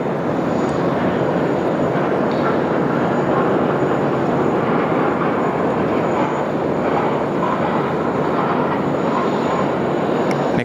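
An aircraft departing Sydney Airport from runway 16 left gives a continuous, broad engine roar at moderate distance, holding steady throughout without talk.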